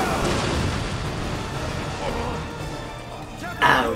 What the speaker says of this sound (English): then boom! Oh my god, it's a rocket launcher.